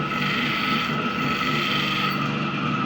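A clipper blade sharpening machine runs steadily and close up, giving a continuous mechanical grinding whir with a metallic ring and no voices over it.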